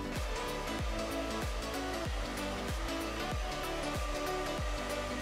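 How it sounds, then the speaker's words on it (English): A handheld hair dryer blows hot air onto hair in a steady loud rush, with a repeating rhythmic pulsing as the airflow is worked through the hair with a round brush. "When you blow dry your hair, you apply hot air to dry the hair."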